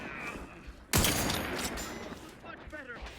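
Video game gunfire in The Outer Worlds 2: a sharp, loud shot followed by a decaying burst of rattling fire, with speech before and after.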